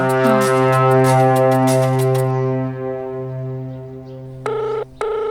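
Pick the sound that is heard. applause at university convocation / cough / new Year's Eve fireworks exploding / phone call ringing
phone call ringing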